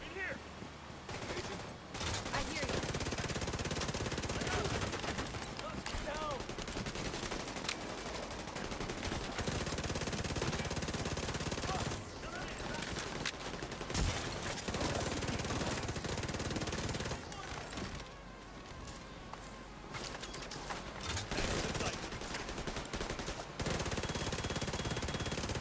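Sustained automatic gunfire and bursts in The Division 2, dense and loud almost throughout, with brief lulls between volleys and voices talking underneath.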